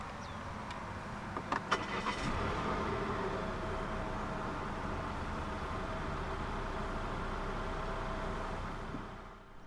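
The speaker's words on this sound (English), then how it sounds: "press the start button to the left of the steering wheel" A brief click, then a 2019 Volvo XC40 T5 AWD engine turns over by push-button start and settles into a steady, close idle hum that continues to the end.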